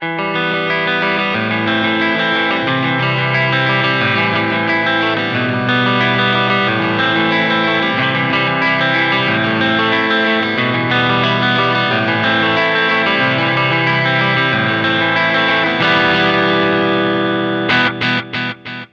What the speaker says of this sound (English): play the same chord progression but lower down the neck